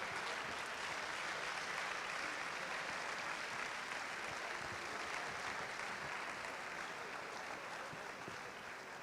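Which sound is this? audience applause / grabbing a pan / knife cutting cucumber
audience applause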